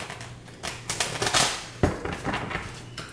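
Large tarot cards are shuffled by hand, a close run of papery riffling and flicking bursts with a sharper snap partway through, no talk.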